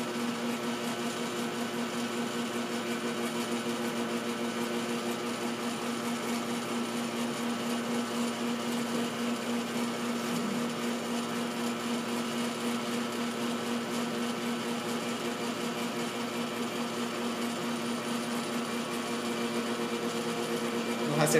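A DC electric motor in a lab AC-DC converter setup runs steadily at its rated armature current of about 6 amps, giving a constant hum with tonal whine that stays loud and unchanging throughout.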